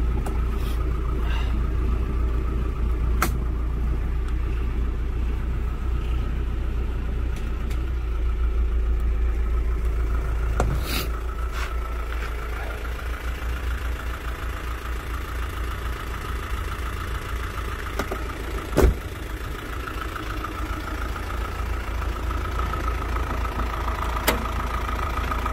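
A 2004 Isuzu Hi-Lander with a 2.5-litre diesel engine and automatic transmission idles with the hood open, a steady low rumble with faint knocking and a few sharp clicks, close and continuous.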